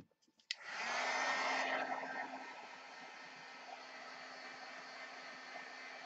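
A hair dryer clicks on and blows a loud, steady whooshing stream of air to dry a painted Christmas envelope, settling into a slightly softer continuous hum after a second or two.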